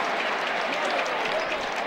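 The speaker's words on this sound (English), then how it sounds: "Middleglue claims the rebound for Wake, and he's fouled with 43 seconds remaining, and the crowd sensing" A basketball crowd at Joel Coliseum applauds and cheers after a foul late in a Wake Forest home game against UNCA, a dense, sustained wash of clapping and crowd noise at an even level.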